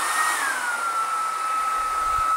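A DEERMA DEM-CF30W hair dryer, which comes with a diffuser and concentrator, runs with a steady whooshing airflow and a high motor whine that drops slightly in pitch early on, close and alone.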